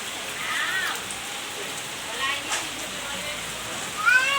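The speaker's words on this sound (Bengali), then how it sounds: "আর এদিকে কিন্তু ঝমঝমিয়ে বৃষ্টি চলে এসেছে" Heavy rain pouring outside, a dense continuous hiss with faint voices in the background and a brief louder swell near the end.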